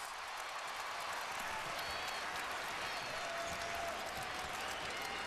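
Home basketball crowd at a Kansas at Iowa State college game, a steady loud roar of cheering and applause filling the arena throughout, with no clear break or single voice standing out.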